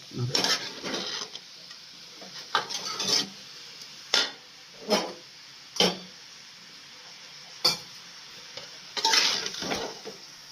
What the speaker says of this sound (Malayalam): ചിക്കൻ നല്ലതായി മിക്സ് ചെയ്ത് കൊടുക്കാം